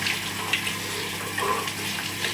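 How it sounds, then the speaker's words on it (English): Water running and splashing while a blender jar is rinsed out in a kitchen right after making green juice, a steady close rushing spray with a few small splashes. "as soon as you're done is just right away, immediately rinse this out"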